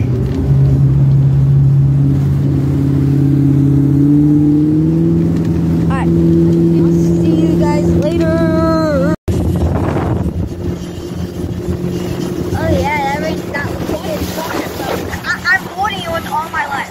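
A motorboat engine drones steadily and loudly, with rumbling hull and wind noise, while people shout and talk excitedly over it.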